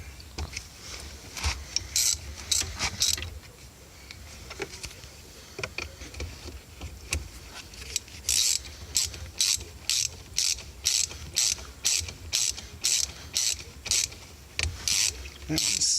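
A ratchet tightening bolts during a Buddy Club shifter install on a Honda Element, with a sparse, irregular clicking at first and then rapid, evenly spaced bursts of sharp ratcheting clicks, close and loud.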